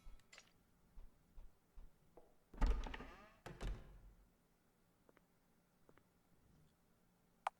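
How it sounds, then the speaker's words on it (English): A door unlocking and swinging open in The Witch's House video game: a loud thunk and rattling clunk of the lock, then a second knock, with faint ticking around it. "You heard something unlock. The door opened."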